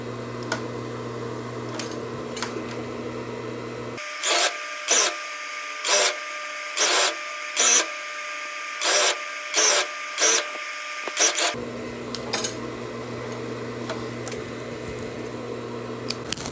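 A sewing machine stitches the hem of women's pajama shorts in short rhythmic bursts, about nine quick runs in a row, loud and close, with quieter room noise before and after.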